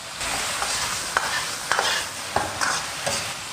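Blanched shredded potatoes are stir-fried in a wok with a continuous sizzle, broken by repeated loud scraping strokes of the spatula every half second or so.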